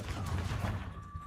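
The Confringo fire spell going off in Hogwarts Legacy: a short, dense burst of crackling, explosive impacts, loud and close, that fades within a second or so.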